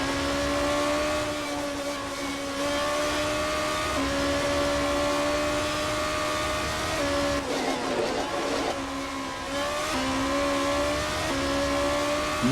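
Race cars scream past on worn qualifying tyres during a GP2 qualifying session in the United States, a continuous loud engine whine with steady rising and falling pitch and a brief rougher burst midway.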